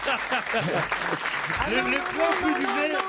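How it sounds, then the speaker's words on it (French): Studio audience applause on a French talk show, a steady wash of clapping running the whole stretch beneath overlapping voices talking and protesting. "Tu enlèves les applaudissements"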